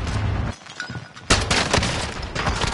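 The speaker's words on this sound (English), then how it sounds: "taking shots!" Rapid Warzone gunfire striking the player, a burst of shots, then a louder, denser volley of close cracks and impacts after a short lull.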